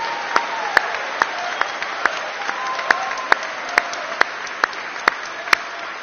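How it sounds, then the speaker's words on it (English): An audience at a school awards service applauds student presenters, the claps landing in a fairly steady, evenly spaced rhythm over a sustained tonal background in a large room. "Can we give our student presenters a round of applause,"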